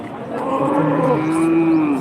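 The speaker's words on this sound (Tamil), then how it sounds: "நாட்டு மாட்டு கன்று" A single long, loud moo from a nearby native-breed cow calf at a Sunday market in Santhipuram, Andhra Pradesh, drawn out and rising slightly before fading.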